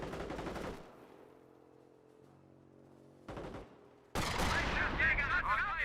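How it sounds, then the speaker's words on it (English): Sniper rifles firing in Company of Heroes, two sharp cracks separated by a quieter lull with low rumble, then a dense loud burst of battle noise at the end. "Snipers firing away"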